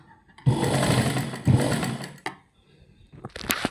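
A sewing machine stitches a blouse in two close bursts of steady mechanical whirring, each about a second long. Softer clicks and handling noises follow, and there is no talk.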